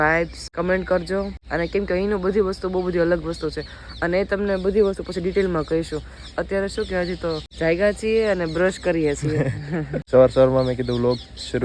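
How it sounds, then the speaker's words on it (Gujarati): Chickens cluck and birds call on a morning in Banaskantha during a wedding stay, faint and steady beneath continuous close talking and a laugh. "અને પક્ષીઓ કલરવ કરે છે"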